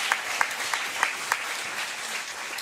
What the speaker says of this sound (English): Would you give him one more round of applause